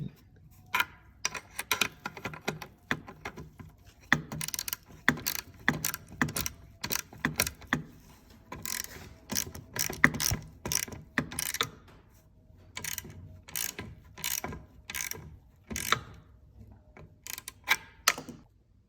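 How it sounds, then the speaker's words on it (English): Ratchet tightening the two carburetor nuts on a Stihl 031AV chainsaw, with repeated bursts of clicking pawl strokes and small metallic rattles at an irregular rhythm, close and moderately quiet, with no speech. "Now I'm gonna go ahead and tighten these down right here, the 2 nuts."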